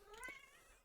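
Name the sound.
cat meowing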